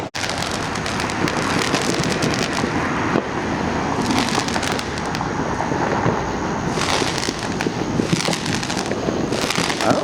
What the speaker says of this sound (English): Fireworks, fireworks.